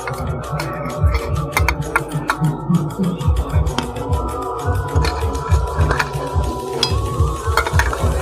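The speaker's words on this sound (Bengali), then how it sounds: "বন্ধুরা ঝোলটা ফুটে এসেছে, দেখো মা এবার ভেজে রাখা মাছগুলো ওর মধ্যে দিয়ে দেবে।" Fried rohu fish pieces going into a boiling cauliflower curry, a loud, close bubbling simmer with rhythmic throbbing pops and occasional clinks of a utensil against the pot, no speech.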